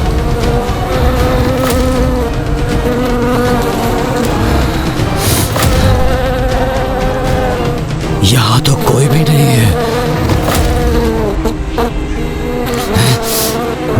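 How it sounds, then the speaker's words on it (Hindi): A dense TV sound effect of countless insects buzzing at once, a loud continuous drone with wavering tones and swells, heard close under a voice speaking in a dramatic scene. "ये भिनभिनाहट जैसे असंख्य कीट एक साथ ध्वनि उत्पन्न कर रहे हैं"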